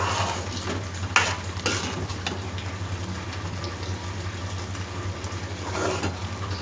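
Gongura curry with dried prawns being stirred in a pot, with soft scraping and occasional spoon knocks over a steady low simmering hum, fairly quiet.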